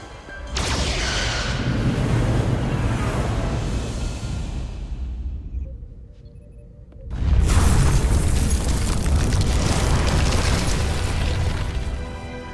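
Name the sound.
starship weapons fire and explosions in Star Trek Resurgence video game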